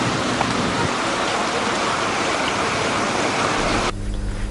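Heavy rain pours in the Hatton hill-country area, a dense, continuous hiss of downpour on surfaces that stays loud throughout, then cuts off abruptly near the end.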